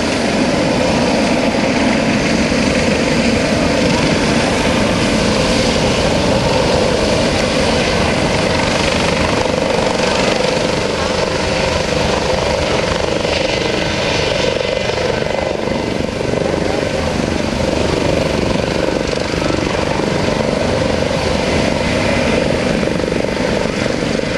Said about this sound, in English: Notice how stable the aircraft is in the hover.